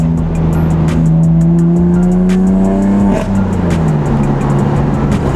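A stock BMW M4 driving loud and close, engine tone held then dropping as the throttle lifts, with sharp crackling exhaust pops scattered throughout.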